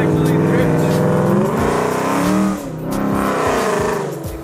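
Car drifting among a 350Z and a Mustang GT, a loud, close engine roaring and revving continuously with a wavering, sliding pitch, while people talk and shout over it.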